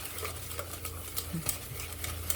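Banana loaf batter being mixed, soft repeated stirring and scraping strokes close by, fairly quiet and unbroken, with no one speaking.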